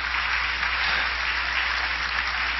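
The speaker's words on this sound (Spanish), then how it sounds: "dése un aplauso." A church audience gives a sustained round of applause during a sermon, with loud, even, continuous clapping from a large crowd and no pauses.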